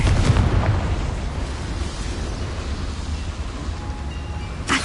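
A Confringo fire spell blast in the Hogwarts Legacy video game: a loud, booming burst at the start that rolls into a sustained rumbling roar, with a second sharp pop right at the end.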